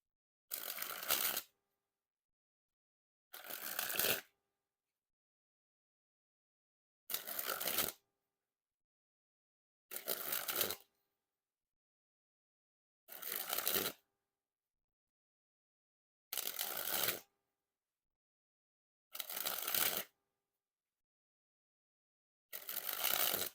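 A Red Lucky Draw deck by Art of Play is sprung from hand to hand in eight separate bursts, each a quick, close, papery flutter lasting about a second and followed by silence.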